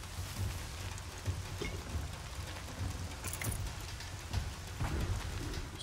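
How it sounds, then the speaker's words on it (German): Rain in the video game Horizon Zero Dawn, a steady hiss of falling rain with scattered droplet patters, even and moderately loud throughout. "Es regnet."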